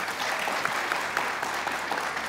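Steady applause from a studio audience at a cricket talk show, dense and continuous throughout with scattered sharper claps standing out.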